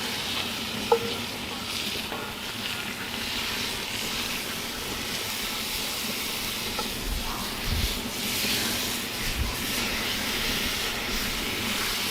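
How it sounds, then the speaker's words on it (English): Ground beef browns in a Dutch oven during outdoor chili cooking, a steady close sizzle and hiss running throughout, with a few soft scraping knocks as the meat is broken up. "I'm going to add 1 pound of ground beef."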